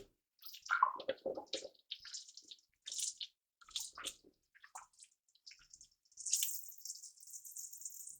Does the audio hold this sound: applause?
no